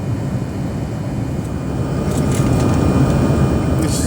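Steady broadband roar inside a passenger airplane cabin during a flight over Indonesia, constant and fairly loud, dominated by low rumble with no speech.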